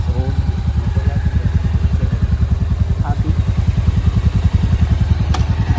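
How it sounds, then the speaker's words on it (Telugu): Motorcycle on a ride to Sangodi near Paderu, its engine chugging in a steady, close, rapid pulsing thump that stays loud and even throughout. "బైక్ ఇప్పుడు రెడీ అయిపోయి సందీప్ డ్రైవింగ్"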